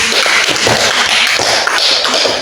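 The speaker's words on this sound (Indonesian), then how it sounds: "Kasih aplaus dulu untuk Intan." Students in a school classroom give a classmate a round of applause: dense, loud, continuous clapping close by, lasting a couple of seconds, with no voices standing out.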